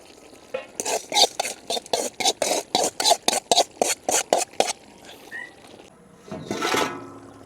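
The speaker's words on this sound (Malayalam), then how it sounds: "ഇതിനകത്തേക്ക് തേങ്ങാക്കൊത്തും കരിവേപ്പിലയും ഇട്ട് കൊടുക്കാം" Coconut pieces and curry leaves tipped into a pan of black chicken curry, giving a run of about a dozen rhythmic scraping stirs, loud and close, then a brief pause and a final longer sizzling scrape, with no talk.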